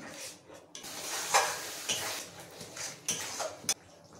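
Cumin, coriander, chili and turmeric powders with ginger, green chili and cashew paste are sautéed and stirred in a pan for paneer biryani, giving soft sizzling with intermittent scraping strokes of the spoon, fairly quiet.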